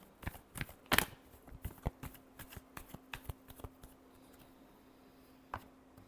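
Tarot cards being shuffled close up, a dense burst of crisp riffling snaps early on that thins into scattered soft flicks and slides, with a faint steady hum underneath and no talking.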